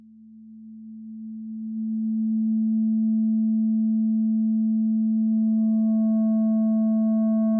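A steady, smooth pure tone holds a single low pitch, swelling in loudness over the first two seconds and then sustaining evenly, with faint overtones creeping in later.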